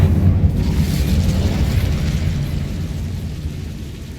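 A deep rumbling fire-spell blast from the video game Hogwarts Legacy, a loud low roar that holds steady for several seconds and slowly tapers.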